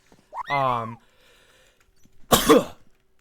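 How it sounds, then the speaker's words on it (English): A short vocal sound is followed by a pause, then a sharp, sudden sneeze-like burst, close and fairly loud in a quiet room. "these guys are making me sneeze"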